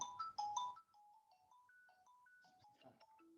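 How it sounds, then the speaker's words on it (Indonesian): A telephone ringtone plays alone, a clear electronic melody of short bright notes stepping up and down, moderately faint and close. "telepon lagi."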